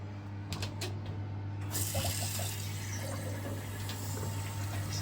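Water rushes steadily into a boiler system just after a repair, a constant hiss and flow sound with a few faint clicks and knocks over the top.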